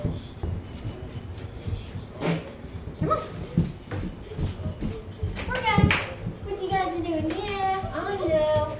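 Puppies give high yips and whimpers close by, mixed with soft handling noises and a person talking to them.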